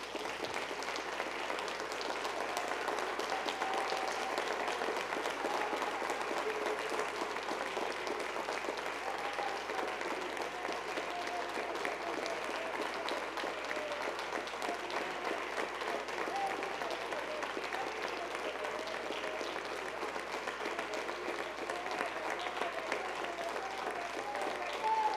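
A church congregation clapping together in worship, sustained dense applause filling the room at steady volume for the whole stretch, with a low hum underneath.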